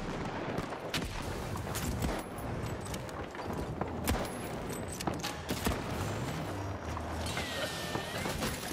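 Gunfire and explosions, including grenade blasts, crack and thud through a dense, chaotic firefight in the video game The Finals, loud and continuous.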